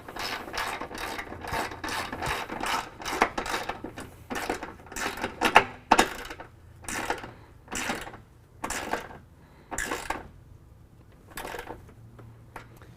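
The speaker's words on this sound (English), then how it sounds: "use a 13mm to tighten down our nuts" A ratchet with a 13 mm socket tightening nuts on a nerf step, clicking in a long run of quick rhythmic strokes with short pauses between, close and clear with no talking.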